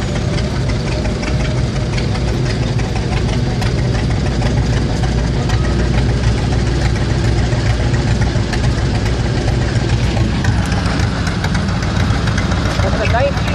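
A 1943 Allis-Chalmers C tractor engine idling at a parade, rumbling loudly and steadily with a low, knocking chug throughout, close by and continuous, with background activity layered over it.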